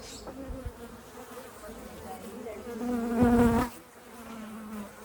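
Honey bees returning to a top bar hive, a continuous close buzz with one bee droning loudly past the microphone for about a second before the hum settles back to a softer background.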